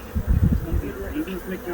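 Honey bees buzz in a low, steady hum close by, rising and falling over the whole stretch, while a person speaks faintly underneath.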